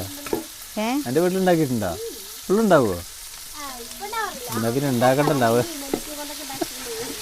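Food fries and is stirred in a pan on a home stove, a steady soft sizzle running beneath prominent conversational speech throughout.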